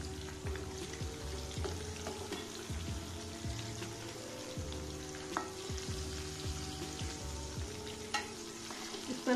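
Mango pieces coated in besan batter fry in hot oil in a kadhai over a high gas flame, with a steady close sizzle and bubbling and occasional soft stirring scrapes, and no talk.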